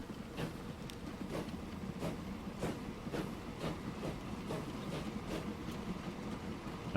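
A train in a Jamaica-themed city-building game rolls steadily along rails, its wheels clicking in a regular clickety-clack rhythm over a continuous low rumble, with no talk.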